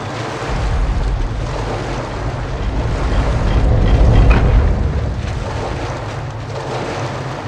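Water in the video game Metro Last Light Redux rushes and surges in a continuous, broad wash with a windy edge, swelling louder toward the middle and easing off again, heard alone.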